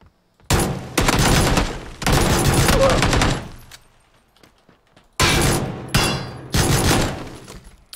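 Loud bursts of gunfire in PUBG during a pistol-and-crossbow match, three rapid volleys, a pause, then three more close bursts.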